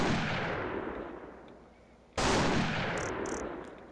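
Gunfire in The Thing video game, two heavy booming blasts a couple of seconds apart, each with a long, fading roar, plus faint high chirps near the end.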